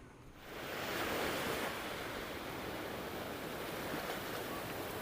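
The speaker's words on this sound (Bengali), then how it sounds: "কত ঢেউ মারে জোরে জোরে," Large ocean waves crash on the shore, a loud, continuous roaring wash that swells in after a quiet first half-second and then holds steady, with wind noise and no voices.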